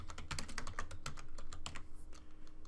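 Rapid, fairly faint clicking of keys on a computer keyboard as a document name is typed, an uneven burst of taps close by.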